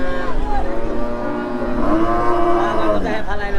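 Cattle at the Hazratpur livestock market in Bangladesh, where Australian-breed cows are sold, give a long, low, wavering moo that fills most of the clip, close and loud over a murmur of market background.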